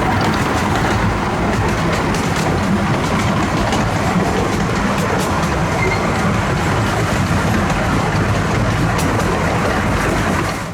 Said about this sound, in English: The miniature gauge train makes a very long trek outside